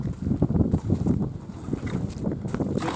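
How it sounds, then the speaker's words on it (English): Steady gusting wind buffets the microphone in a low, rumbling roar, loud and close throughout with no other clear sounds. "It's just bloody windy today."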